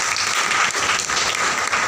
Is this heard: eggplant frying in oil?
no